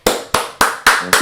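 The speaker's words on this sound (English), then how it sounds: "Y'all give a round of applause for Mr." Five sharp, evenly spaced hand claps ring out close and loud as a performer is brought to the stage, each crack decaying briefly before the next, with no crowd wash behind them.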